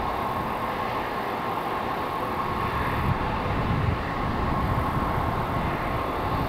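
An American Eagle airliner rejecting its takeoff on the runway gives a loud, steady roar of engines and rolling noise, continuous and fairly close, with no talk.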